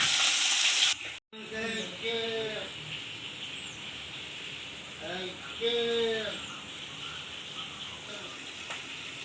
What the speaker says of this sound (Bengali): মাছ কটা আমি ভেজে নিই।